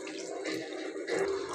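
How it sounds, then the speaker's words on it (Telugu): Water splashes briefly into a pan of thick masala, a short soft pouring trickle with no talking. "కొన్ని వాటర్ వేసుకోవాలండి"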